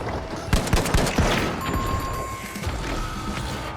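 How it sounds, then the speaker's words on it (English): A frag grenade blast in the shooter game The Finals, sharp broadband cracks and bursts mixed with rapid gunfire, loud and dense over a few seconds. "Throw the frag! Frag grenade out!"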